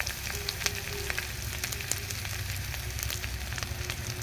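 Potato curry with salt sizzling in a pan as it is stirred, a steady close frying crackle with small scraping clicks and no talking.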